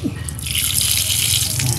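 Water running steadily from a tap, rinsing a portable foam sprayer used for car washing, a close, continuous splashing hiss lasting the whole moment.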